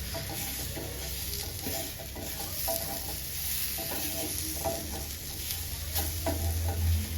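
Ingredients for chicken curry frying and being stirred in a pan, a continuous close sizzle broken by scraping stirring strokes, with no talking.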